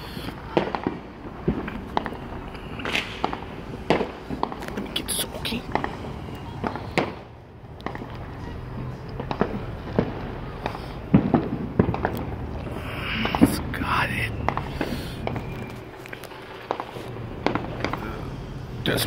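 Fireworks burst outdoors on the 4th of July, a long run of sharp cracks and booms, some close and loud, others softer and distant, with crackling between them.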